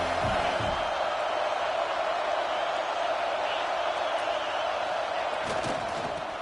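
A big college football stadium crowd at Saban Field roars continuously on third down, a dense wash of distant cheering and noise that holds steady throughout.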